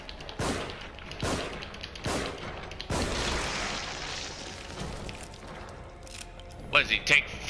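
Gunfire in the horror video game The Evil Within, several heavy shots at roughly one-second intervals ringing out loud and near over a rumbling game backdrop, followed by faint clinks and a few sharp metallic hits.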